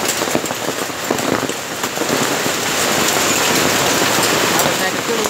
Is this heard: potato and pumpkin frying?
no